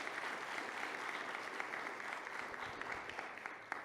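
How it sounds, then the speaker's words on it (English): A conference audience applauds a panel discussion on implementing virtual reality in the field, with steady, fairly faint clapping that continues evenly throughout, without talk over it. "Let's all give them a round of applause."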